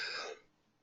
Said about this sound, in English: So sorry about that cough there.